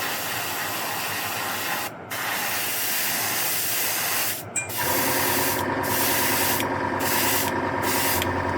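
Steady hissing aerosol spray paint on a model in continuous bursts, close by, with brief pauses between sprays and a slight change in tone midway.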